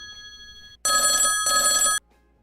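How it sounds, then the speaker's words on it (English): A telephone bell rings twice in two loud, bright bursts with a short pause between them, following a faint steady electronic tone, with no talking over it. "You heard the phone ring?"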